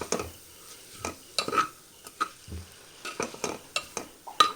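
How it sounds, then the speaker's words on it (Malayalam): A spoon stirs ground spices, including turmeric and garam masala, in a pan for potato curry. There are repeated short scrapes and clinks at an uneven rhythm, close by and fairly quiet, with no talking. "പച്ചമണം മാറുന്നവരെ നമുക്ക് മിക്സ് ചെയ്യാം"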